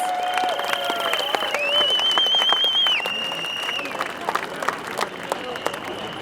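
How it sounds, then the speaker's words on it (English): Crowd applause at an outdoor Scottish independence rally, clapping spread through a large gathering with tonal whistles or sirens sliding above it and a few voices mixed in. "Please give a big round of applause for Pensioners for Independence."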